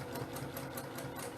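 Sewing machine needle pounding at a steady rapid rhythm during free motion quilting on fabric, close and continuous with a mechanical whir underneath, no voices.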